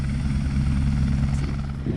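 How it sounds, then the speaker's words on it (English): A helicopter drones steadily on a New Zealand glacier trip, its low rotor rumble continuous and fairly loud throughout with no talking over it. "we would take a helicopter ride and land on the glacier"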